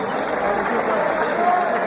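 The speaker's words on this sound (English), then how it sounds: "Come on, give the fighters a round of applause" A fight-event crowd in an arena applauds the fighters after the official decision, a loud continuous wash of clapping and crowd noise with an announcer's voice riding over it.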